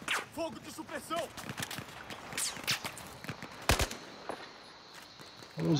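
Suppressive automatic gunfire in the Battlefield 4 video game, rapid bursts and sharp shots spread across the clip with a player's voice talking over it.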